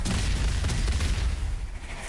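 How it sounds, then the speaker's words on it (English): Grenade blast in the co-op shooter Strange Brigade, a loud broad boom with crackling debris that fades over about two seconds, with no talk. "Grenade away!"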